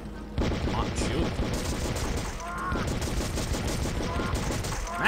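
Rapid gunfire in the PC game Outcast, dense bursts of shots and automatic fire crackling continuously through the stretch, fairly loud and close, with a brief lull midway.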